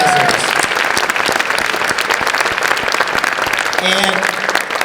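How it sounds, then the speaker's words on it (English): Loud, sustained applause from a large theatre audience at a PechaKucha event at the Akron Civic Theatre, dense clapping filling the whole stretch, with a brief voice or tone rising near the end. "let's give a big round of applause to all the organizers"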